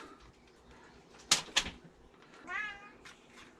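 Cats meowing in a kitchen, two sharp close meows in quick succession and then a longer, drawn-out wavering meow, against quiet room noise.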